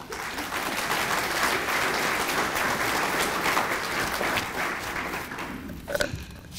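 An audience at a university scholarship brunch applauds steadily for several seconds, a dense, even wash of clapping in a room that fades near the end as a few footsteps and a light knock follow.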